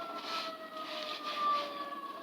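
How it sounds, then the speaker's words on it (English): Ambulance siren passing at a distance, a faint steady wailing tone that rises slightly and then fades, with no talk. "Damn, ambulances."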